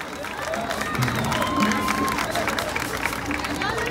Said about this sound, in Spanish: Fortísimo el aplauso para Cimarrón Auténticos, Mascarada Juanca, de Desamparados.